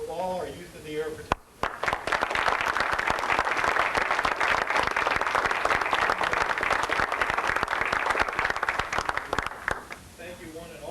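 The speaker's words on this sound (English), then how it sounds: "Let's give a great round of applause" Loud, sustained applause from an audience at a 1987 Exchange Club youth speech contest evening, a dense wash of clapping that swells in after a brief voice and holds steady for about nine seconds.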